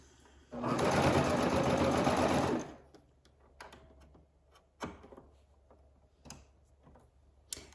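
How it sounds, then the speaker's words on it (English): A serger overlocks the edge of fabric for a gathered peplum dress, running as a loud, steady mechanical burst for about two seconds, followed by quieter clicks and handling taps. "And then I will turn the fabric to the back to serge off."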